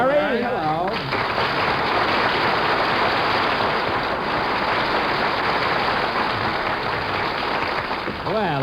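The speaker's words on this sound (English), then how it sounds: "Well, did you hear that applause," A live studio audience at a New York comedy broadcast bursts into loud, sustained applause that washes steadily over several seconds, with brief voices at the start and end.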